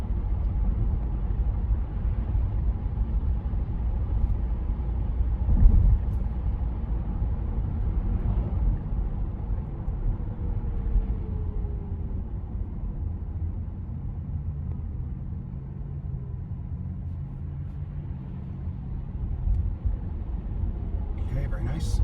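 A Tesla running Full Self-Driving 14.1.7 accelerates smoothly, its interior filled with a steady low road rumble and soft tire hum, with a voice speaking over the drive.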